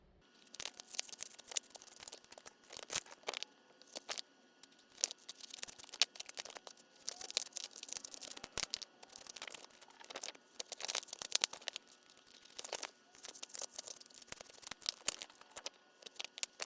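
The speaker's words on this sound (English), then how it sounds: "I'm just basically trimming it out on the lines with a pair of scissors" Scissors snip steadily through two layers of paper in rapid, irregular bursts, close and crisp, with faint rustling between cuts.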